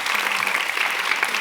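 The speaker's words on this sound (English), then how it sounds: "So please give a round of applause." Audience applause at a live creative-industry podcast event, steady dense clapping from a room full of people, filling the whole short stretch at an even level.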